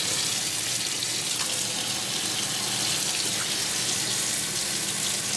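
Water runs steadily into and drains from an American Standard Memphis single-bowl kitchen sink, a constant close hiss and splash without pause.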